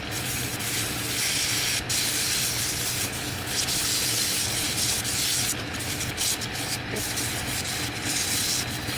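Continuous, loud abrasive sanding of a wooden chess piece hisses close by with a steady scratchy rhythm, broken by a few brief pauses and no talking.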